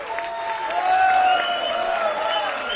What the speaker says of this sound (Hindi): अपने लिए एक बार फिर से जोरदार तालियां बजाएं